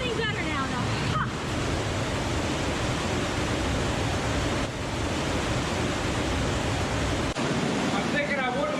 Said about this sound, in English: there's rushing water on the other side